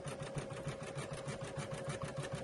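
An embroidery sewing machine stitches out a design in a hoop, a fast, steady mechanical rattle of the needle with a constant motor hum, close and continuous without speech.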